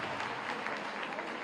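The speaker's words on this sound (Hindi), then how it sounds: "देखो महाराज जी के लिए आप लोग जोरदार बच्चों ताली बजाइए, जोरदार" Children applauding at an awards ceremony in Gorakhpur, a dense, even patter of many small hands clapping continuously, a little distant, no voices over it.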